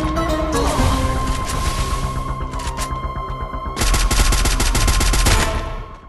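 Rapid automatic SCAR rifle fire in the Free Fire battle royale game, loud and close, with dense bursts running almost the whole time and a harder, fuller stretch near the end before it cuts off, without talk.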